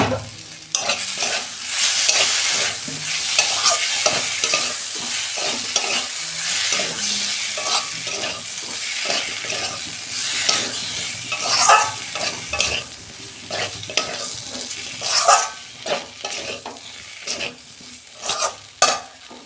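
Spices, kohlrabi, potato and tomato being sautéed for a homestyle fish curry, with steady sizzling and frequent scraping stirs of a spatula across the pan, close and fairly loud throughout.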